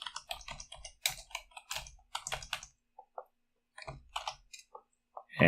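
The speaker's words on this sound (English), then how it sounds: "we can just type hello world" Typing on a computer keyboard in short bursts of quick, crisp key clicks, close and dry, with brief pauses between bursts and a louder clatter at the very end.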